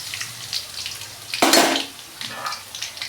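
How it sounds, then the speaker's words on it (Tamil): Crushed garlic dropped into hot oil for a catla fish curry gives one loud hiss and sizzle, then settles into a softer steady crackle with light background clatter. "நம்ம தட்டி வச்சுக்கிற பூண்டை போட்டுக்கலாம்"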